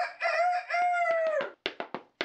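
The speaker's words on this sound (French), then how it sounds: "Quand le couc, Roger Labigne, sonne le réveil avant même le chant du coq" A rooster crows nearby, one long drawn-out call followed by several short, sharp clucking bursts, loud and clear with nothing else over it.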